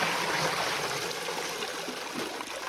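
Creek water rushes steadily in early spring with ice floes drifting down, a constant broad wash of flow at moderate level with no voices.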